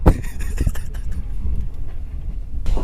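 An international sleeper train near Hat Yai, Thailand, runs fast with a loud, steady rumble and rattling clatter on the rails as the carriage sways, with no voices over it.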